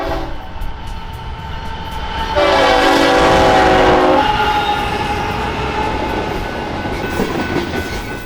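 A southbound BNSF freight train led by an ES44AC locomotive rumbles past in Fort Worth, Texas, with steady rolling noise, and a loud horn blast sounds for a couple of seconds partway through, no voices.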